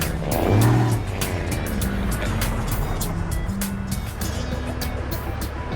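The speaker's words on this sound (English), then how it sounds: "Love the sound of that engine." A Kenworth T2000 truck engine in American Truck Simulator hums steadily with a louder roar near the start, settling into a sustained drone with faint clicking on top.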